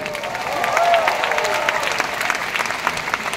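A church congregation claps together in steady, dense applause that holds for a few seconds, fairly loud and close.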